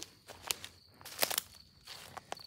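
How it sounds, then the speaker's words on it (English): Footsteps crunch over the ground at night in a cemetery near woods, an uneven run of soft, close steps at low volume with no talk. "I'm hearing footsteps."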